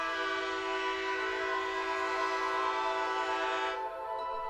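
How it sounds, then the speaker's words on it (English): A loud, sustained train air horn blares steadily for about four seconds, its rich layered tones holding before cutting off abruptly, leaving a softer lingering tone. "The quiet can be profound, until a familiar air horn slices through it."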